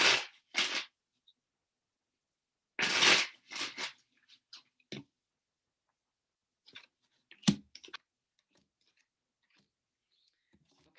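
Tarot cards shuffled by hand in bursts, short riffling rushes separated by quiet pauses and a few soft clicks and taps, close and alone with no talking.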